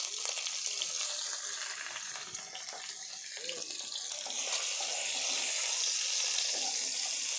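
Eggs seasoned with salt and turmeric fry in oil in a pan, giving a continuous hissing sizzle that grows louder toward the end, with no talk.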